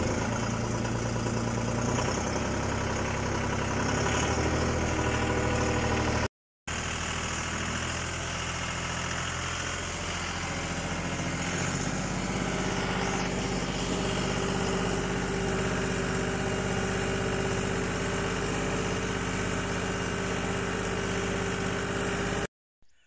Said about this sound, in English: The more you let off the clutch, the more you add gas, and like that, and the tractor is moving.